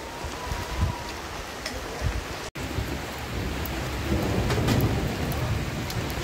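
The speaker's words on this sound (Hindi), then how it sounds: "बारिश तेज तेज हो रही है" Heavy rain pours steadily with rolling thunder rumbles during cold weather in the Himalayan hills near Manali, a loud continuous wash with a brief dropout midway and no talk.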